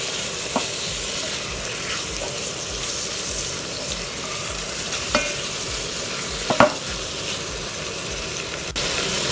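A mushroom and tomato mix sizzles steadily in a frying pan while a utensil stirs it, with occasional scrapes and light clicks of the spoon against the pan standing out from the continuous frying hiss.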